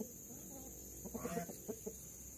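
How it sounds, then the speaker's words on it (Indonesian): A few soft chicken clucks come in a short cluster, faint and nearby over quiet background noise. "Ini katanya ayam apa ya?"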